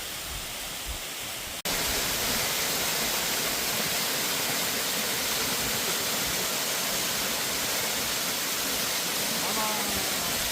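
Steady, loud rushing roar of Çamlıca Waterfall in Alanya, dense and constant, after a brief quieter moment at the start.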